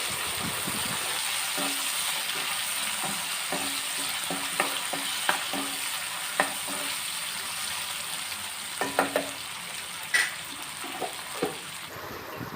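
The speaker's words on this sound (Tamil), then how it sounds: "இப்போ இந்த தக்காளி பழம் பொடி உள்ளுக்கு வதங்கிறதுக்கு இன்னும் கொஞ்சம் உப்பு போட்டோம்னா கொஞ்சம் குயிக்காக வதங்கிடும்" Chopped tomatoes with salt sauté in a pan for a salty kandam (fish) curry, a soft steady sizzle broken by intermittent scraping stirs and a few sharper clinks, close and moderate without talk.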